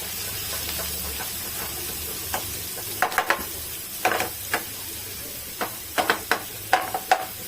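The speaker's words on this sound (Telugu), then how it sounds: "ఒక స్పూన్ అల్లం వెల్లుల్లి పేస్ట్ ఇది కూడా మంచిగా ఫ్రై చేసుకోవాలి" Onion with a spoon of ginger garlic paste fries in a pan for a prawn curry. A steady close sizzle runs under repeated sharp scraping and tapping strokes from stirring.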